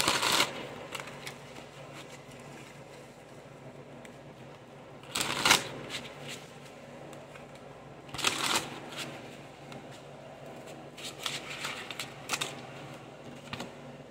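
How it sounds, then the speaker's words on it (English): Tarot cards being shuffled in a quiet room, with several distinct bursts of crisp riffling and flapping paper spaced across a soft background, close up and with no talking. "If you want me to, I'll pull some tarot cards."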